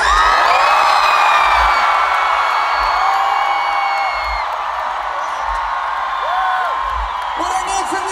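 Large concert crowd at a show in Moscow screaming and cheering, a dense sustained roar with high whoops and shrieks layered throughout, loud and continuous.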